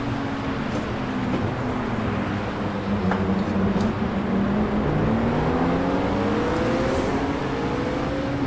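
A 2017 Acura NSX races in heavy rain in the game Project CARS 2, its engine droning steadily with rising pitch as it accelerates, under a constant hiss of rain and spray.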